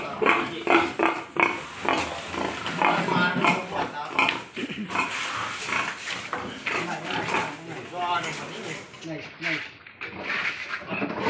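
Pig chosen for slaughter, grunting and squealing in repeated bursts at close range while people talk around it.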